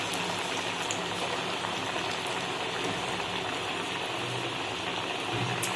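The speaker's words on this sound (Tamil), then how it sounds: "எண்ணெய் நல்லா காஞ்சதுக்கப்புறமா நம்ம உருண்டை பிடிச்சி தட்டி வச்சுருக்க வடையை போட்டுடலாம்." Tea-shop style paruppu vada, flattened lentil fritters, deep-frying in hot oil: a steady, dense bubbling crackle that holds evenly throughout with no talk.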